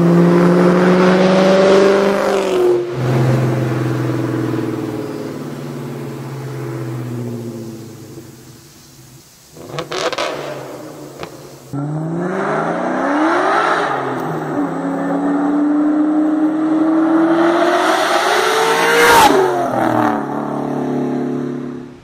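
A Terminator Cobra's engine roars and revs through a Borla Stinger S-Type catback exhaust in repeated bursts, the pitch sweeping up and dropping back, loud and close, with brief quieter gaps between pulls.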